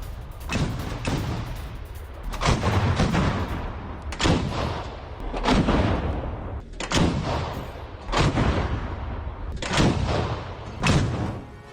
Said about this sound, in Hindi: रूसी सेना ने जबरदस्त फायरिंग की।